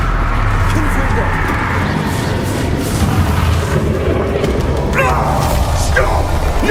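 Confringo explosion spell blasting in the Hogwarts Legacy video game, a loud booming burst over dense battle noise and music, with a sharp crack near the end.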